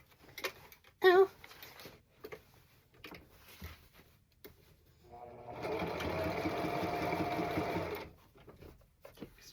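A domestic sewing machine stitches black striped pants, running in one continuous whirring burst of about three seconds after scattered handling clicks and a brief squeaky noise, all fairly quiet and close.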